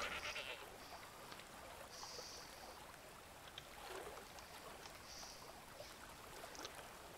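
Goats bleat faintly in the Dawn of Man game, a few short calls scattered over a soft, rushing background of ambient noise with no talking.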